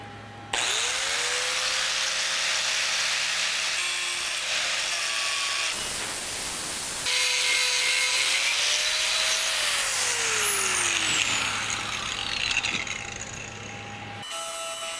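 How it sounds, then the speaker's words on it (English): Steel pin machined with a steel-cutting end mill: a loud, continuous high whine of cutting, briefly dropping out midway and returning with tones that slowly rise and fall, close with no talk. "I'll machine this pin to size"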